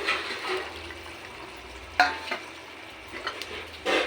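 Pointed gourd (potol) going into a pan for a simple vegetarian potato and gourd curry, with a soft sizzle and stirring, plus a few sharp clinks of a spoon against the pan.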